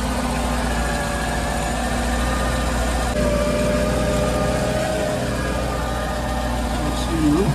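A MerCruiser boat engine idles as it warms up, a steady low rumble close by that holds an even level for the whole stretch, with a faint shift partway through.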